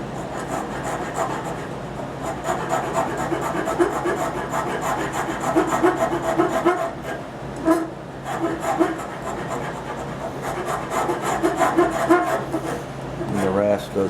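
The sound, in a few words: Nicholson rasp shaping wooden knee block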